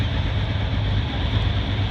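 A John Deere 4320 hot farm tractor with a 466 cubic inch engine, in the 10,000 lb class at a tractor pull in Marion, Kentucky, drones as a steady, loud, low engine roar that holds for the whole moment with no voices.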